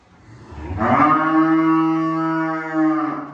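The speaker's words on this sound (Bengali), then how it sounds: "আমাদের উত্তরবঙ্গে যে ছোট জাতের দেশি গরুগুলো পাওয়া যায় মূলত ওই গরুগুলোই" A small native desi cow of North Bengal on a farm lets out one long, loud, close moo that rises and holds before trailing off, heard on its own.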